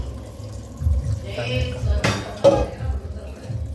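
A pressure cooker is scrubbed and rinsed in a kitchen sink, giving close metallic clanks and knocks with splashing water, and a voice talks under the clatter.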